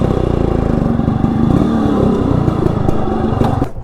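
A Yamaha RX motorcycle, started after sitting unused for many days, runs with a close, raspy two-stroke putter and a few light revs, alone without speech.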